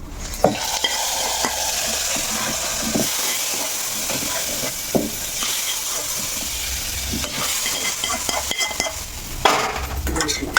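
Steady hissing sizzle of tempering spices frying in hot oil for ridge gourd dal, continuous throughout, with occasional clinks and stirring knocks in the pan.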